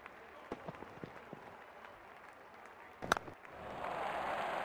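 A cricket crowd at a Pakistan versus Netherlands match claps in scattered bursts after a shot, with a louder swell of applause near the end, faint and distant.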